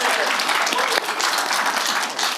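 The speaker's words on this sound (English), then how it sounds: "A big round of applause to these wonderful producers" A live conference audience breaks into loud, dense applause for the producers, an even burst of many hands clapping with a faint murmur underneath.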